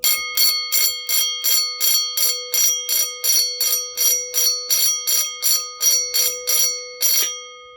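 Two Stromberg 6-inch electric alarm bells ring in about twenty rapid, evenly spaced bursts, loud and close, with a steady metallic tone, then stop.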